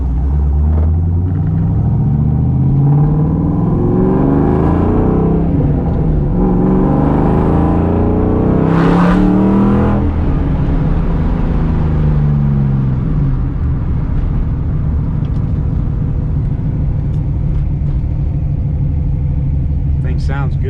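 Deep, throaty V8 engine rumble of a 1994 Mustang Cobra idling steadily close by, through 2.5-inch straight-through mufflers with an H-pipe, with someone talking over it through the first half.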